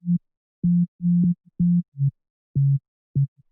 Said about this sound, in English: Now this lane has just got Serum on it with a sine.